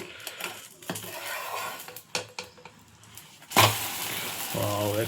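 A bread omelette flipped in a frying pan, with cutlery and pan clatters, a sharp scrape at the turn, then steady sizzling; brief background noise but no clear talk.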